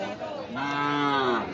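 Sahiwal cattle moo at a crowded village livestock market, a single long, loud, drawn-out low call rising and holding close by against a murmur of background noise.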